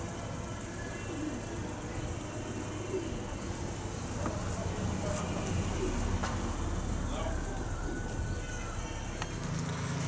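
Racing pigeons coo in a loft, low murmuring calls running continuously through a dense, steady bed of background noise.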